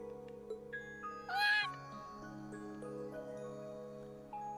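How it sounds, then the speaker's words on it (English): A cat meows once, a short clear cry rising above quiet background music inside a room in the video game Trails of Cold Steel. "A cat?"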